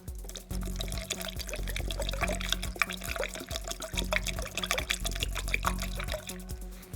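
Vapor Rust rust remover liquid pours steadily from a gallon jug, gurgling and splashing up close at low volume, with slight glugging pulses as the flow continues.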